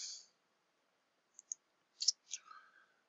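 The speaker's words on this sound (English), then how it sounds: "I'm going to click on the word Blackboard" Several sharp, quiet computer mouse clicks come singly and in a small cluster against near silence, close to the microphone, with a faint breathy murmur near the end.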